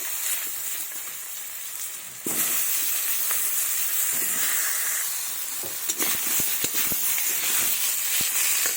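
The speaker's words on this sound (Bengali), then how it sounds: "ওই একই তেলে বেগুনগুলো আর আলুগুলো ভেজে নেব" Eggplant and potatoes drop into hot oil already used for frying fish, and a loud, broad sizzle jumps up and keeps going, with scattered clicks and pops over the steady crackle.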